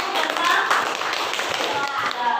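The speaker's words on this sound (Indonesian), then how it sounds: "Oke, tepuk tangan dulu." A classroom of children claps together, a loose burst of many hands with some rhythmic taps, while young voices chatter underneath.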